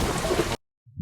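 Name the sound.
rain sound effect in a film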